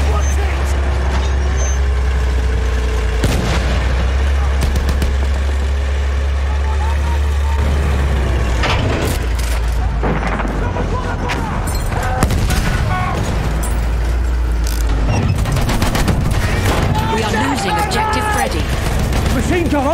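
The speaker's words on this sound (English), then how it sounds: "There's an enemy machine gun." Enemy machine gun fire in a Battlefield 1 Conquest match, heard as bursts of rapid shots within a dense battlefield mix of engines and explosions, with voices calling out over the din.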